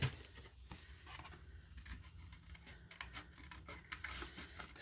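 Quiet scissors snip and rasp through stamped white cardstock during fussy cutting, a soft, close series of irregular cuts and paper rubbing with no talking.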